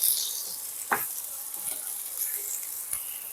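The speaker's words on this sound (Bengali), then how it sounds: "আমি এগুলোকে ভালো করে নাড়াচাড়া করে নিলাম।" Mixed vegetables sizzle steadily in a pan while being stirred, with a few distinct spatula scrapes and taps over the constant hiss of frying.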